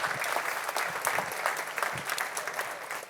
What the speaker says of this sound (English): That deserves an applause right there.